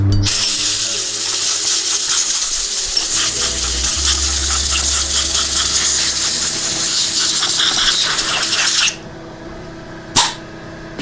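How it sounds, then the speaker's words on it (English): A loud, close blast of compressed air from a compressor hisses steadily for several seconds, cuts off abruptly, then one short burst follows. "I'm also going to hit it with some compressed air"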